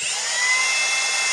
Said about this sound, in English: I like to take a drill and just drill out the corners